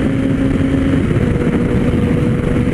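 A Kawasaki Ninja ZX-10R engine runs loud and close in a steady, even drone with a low steady hum and no clear revving peaks.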